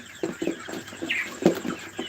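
Multi-coloured tiger chickens clucking nearby, a series of short, fairly loud clucks and calls in an irregular rhythm over faint background noise.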